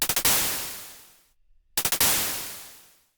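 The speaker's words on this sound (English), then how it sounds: "It sounds just like a really fast percussive thing." A synth in Vital with an LFO modulating the level, giving two loud bursts of rapid percussive stutters, each fading out in a long decay with a short quiet gap between them.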